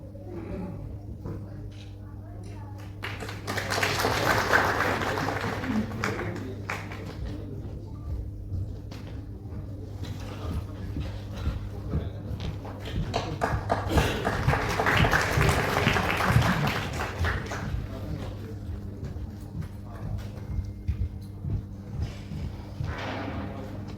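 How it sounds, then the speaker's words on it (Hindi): Audience applause at the Pratibha Samman Samaroh 2026 award ceremony rises in two broad swells of clapping over a steady low hum, with voices heard around it. "प्लीज जोरदार तालियां बजाइए"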